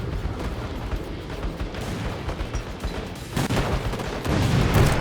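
Grenade blasts in a Roblox shooter land amid dense, chaotic gunfire and rumbling, with loud bursts swelling near the end of the stretch.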